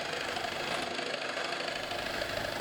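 An electric hand whisk runs on its lowest speed through egg yolk for homemade mayonnaise, producing a continuous, even motor whir with no pauses.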